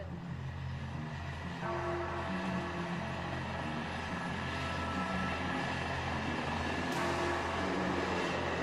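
Fighter jets flying in Victory formation at an aero show give a steady, broad roar of engine noise with a distant, droning quality. It swells slightly toward the end, and no one speaks.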